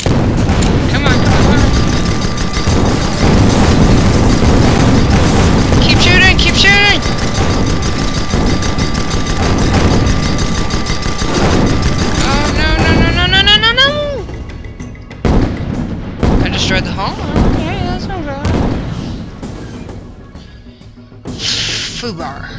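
Gunfire and explosions from the online airship combat game Guns of Icarus Online, with dense bursts of shooting and booming impacts over a loud roar, then scattered sharper shots and blasts as the noise thins out.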